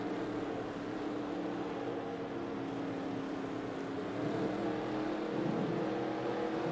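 Dirt track race cars rumble together on a pace lap at the Dynamite Dirt Tour season opener, a steady dense engine drone with slight swells, no voices.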